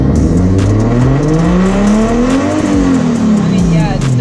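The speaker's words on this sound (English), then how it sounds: "It's still stuttering a little bit when I give it gas." Car engine with a possible blown head gasket revs up and back down with a rising and falling pitch, running rough and stuttering under throttle, loud and close throughout.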